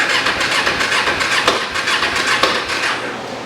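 A seized Kawasaki Ninja 250R motorcycle engine cranks over on the starter without firing, a steady rough churning with sharp squeaks and clatters, close and loud throughout.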